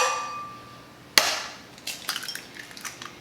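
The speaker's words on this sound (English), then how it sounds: "crack 3 eggs" An egg cracks with one sharp, close tap against a hard edge, followed by a spell of smaller crackling and shell rustles.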